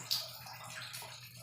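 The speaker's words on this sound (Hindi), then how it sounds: "दोनों पानी का फ्लो आप देख सकते हैं।" Water streams from the outlets of a Kent RO purifier, a steady close hiss and splash running alone for a moment after a brief bright spatter at the start.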